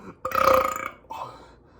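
Someone lets out a single loud, drawn-out burp after drinking Sprite, followed by a shorter, fainter tail, with nothing else around it.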